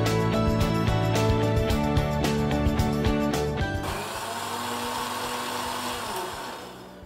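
A mixer grinder whirs loudly as it grinds millet batter for traditional Diwali sweets, a strong buzzing motor for about four seconds before dropping to a softer, lingering hum.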